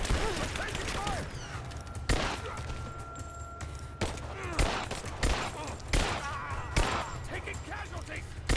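Bursts of gunfire in Rise of the Tomb Raider, sharp shots spaced every second or two over a noisy battle background, with shouted voices in between.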